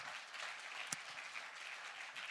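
Audience at a wedding reception applauding after the speeches, a steady wash of many hands clapping throughout, fairly distant, with one sharper nearby clap.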